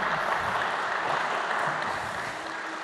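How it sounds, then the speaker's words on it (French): Conference audience applause fills a hall, a dense, steady patter of many clapping hands that stays even and fairly distant throughout. "Vous pouvez l'applaudir."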